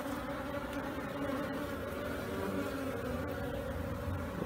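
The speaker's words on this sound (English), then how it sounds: "Nice little swarm of bees." A small swarm of honey bees in an opened swarm trap buzzes continuously, a steady, close droning hum with layered wingbeat tones and no voices.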